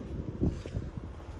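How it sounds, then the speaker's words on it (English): Gusty wind buffets the microphone outdoors beside a Benimar motorhome, a low rumbling roar that swells and dips for a moment with no other clear sound. "A bit windy."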